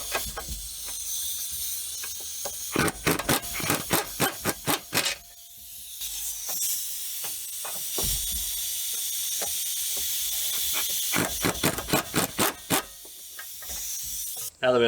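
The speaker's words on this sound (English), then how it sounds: "since we're using the air, just to kind of, like I said, snug it up" An air impact wrench snugs up a sway bar link nut on a 2005–2009 Subaru Outback, firing two clusters of sharp rapid rattling hammer bursts over a steady hiss of compressed air, loud and close.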